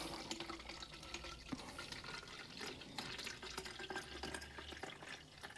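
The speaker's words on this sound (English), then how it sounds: "I'm just going to pour this water in up to the 500 mil line" Water poured into a measuring container up to the 500 ml line for mixing two-stroke fuel gives a faint, low trickle and splashing, quiet and close, with small drips.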